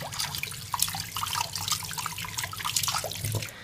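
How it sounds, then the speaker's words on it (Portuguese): Tap water runs steadily into a sink while a doll's things are washed, with irregular splashes and clinks of items under the stream, close and continuous. "E agora eu vou dar uma lavada aqui nas coisas dela"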